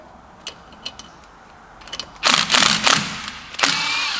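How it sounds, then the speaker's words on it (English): A bolt is threaded in to pop the brake drum off a Toyota Tacoma, sounding as a few light metallic clicks followed by a louder grinding, ratcheting burst and a steady mechanical rasp, close up with no talk. "Going to thread this bolt in here, and what we can do is just put the bolt in here just enough that it's going to pop the drum off."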